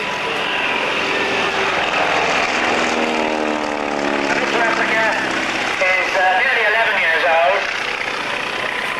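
A propeller plane, a replica of a Red Baron aircraft, drones steadily overhead, its engine note wavering as it passes, loud and continuous with faint background noise.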